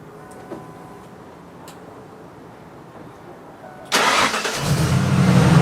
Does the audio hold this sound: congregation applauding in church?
no